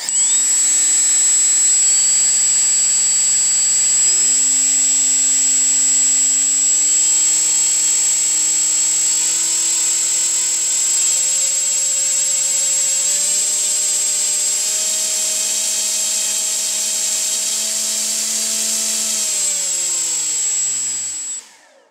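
Small electric motor and propeller on a Turnigy thrust stand throttling up in stepwise jumps to a loud, steady whine with a high tonal buzz, holding near constant before spinning down at the end; no talking.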